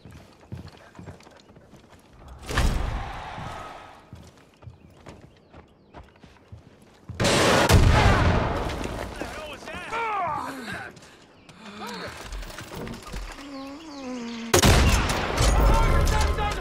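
Rocket blasts and bursts of gunfire in the Far Cry 5 video game, loud explosive surges that come and go among game effects and music, with voices heard in places.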